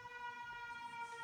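An ambulance siren holds a steady wailing tone, faint and distant, for just over a second.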